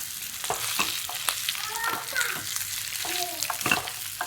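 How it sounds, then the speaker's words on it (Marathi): Methi jowar dumplings being gently sautéed in a pan, a soft sizzle under scattered scrapes and stirring clicks of a spoon, fairly quiet and close. "आता आपण केलेल्या ह्या वड्या टाकून घ्यायच्या. हलक्या हाताने परतून घ्यायच्या"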